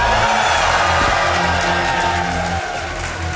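A live gaming-marathon crowd at a speedrun event cheers and whoops loudly in a sustained, dense roar, with music or talk faintly underneath, tapering slightly toward the end.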